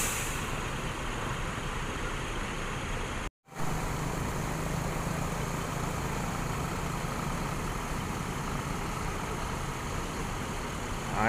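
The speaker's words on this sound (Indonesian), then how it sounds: "armadanya menggunakan sasis Mercedes-Benz OH1626 ya, dengan body jet bus 3+." A Rosalia Indah bus on a Mercedes-Benz OH1626 chassis with a Jetbus 3+ body runs steadily, a continuous broadband engine drone and road noise holding level throughout with one very brief dropout early on.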